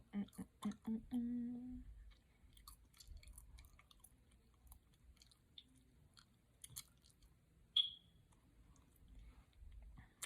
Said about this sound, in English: It must be annoying as hell to hear me chew gum while doing this.